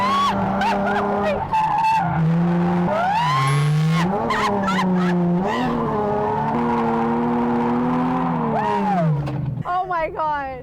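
A car drifts with its tires skidding, letting out long, wavering screeches that rise and fall almost without pause and end in a rapid stuttering squeal. Voices can be heard beneath the skidding.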